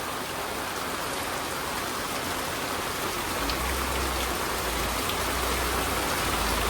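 Rain falls steadily outdoors, a dense even hiss of drops striking surfaces close by, with a low rumble joining partway through.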